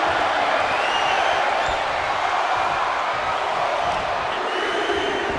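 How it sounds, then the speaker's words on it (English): Arena crowd in the WWE 2K25 wrestling video game during a War Games match, a steady loud roar of many voices that fills the whole span without pause and carries a faint chanting quality as they count along. "The crowd is counting it down."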